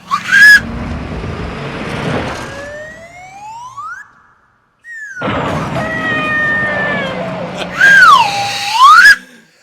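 Loud slide whistle effects swoop up and down in pitch, with a pause in the middle, then rising and falling glides over background noise.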